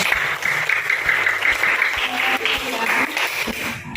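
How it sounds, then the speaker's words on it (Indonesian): Students in a classroom applaud together with steady clapping for about four seconds, moderately loud and close, with some voices mixed in underneath. "Luar biasa, tepuk tangan."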